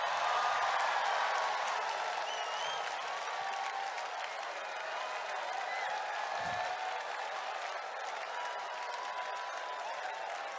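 A church congregation claps together in sustained, steady applause, a dense even wash of hand claps mixed with faint crowd voices and cheering.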